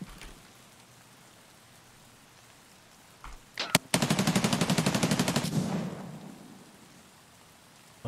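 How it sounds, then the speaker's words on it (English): AUG rifle in Escape From Tarkov fires one sharp shot, then a rapid automatic burst of about twenty evenly spaced loud cracks lasting roughly two seconds, followed by quiet. "What gun is that? I think it's an AUG"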